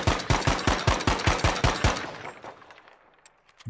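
Rapid automatic fire from an assault rifle in the Battlefield V game, about a dozen evenly spaced loud shots in a fast burst, then ringing echo tailing off into quiet.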